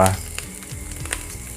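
Red curry paste frying in hot oil in a wok, ready for squid to go in: a steady, close sizzle with faint stirring scrapes and a few brief clinks.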